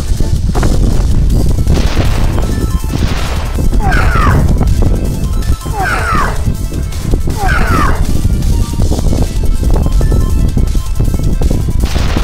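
Loud, chaotic explosions and crashing impacts pound through a video game battle, a rocket launcher in play amid sustained heavy noise, with excited voices shouting over it.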